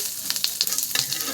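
Neem leaves fry in hot oil with a close, crackling sizzle, punctuated by sharp little pops and stirring scrapes in quick irregular succession.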